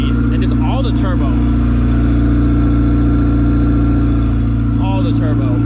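A turbocharged Volkswagen Golf engine runs at a steady loud drone with turbo whistle and whoosh, close up, while someone talks over it.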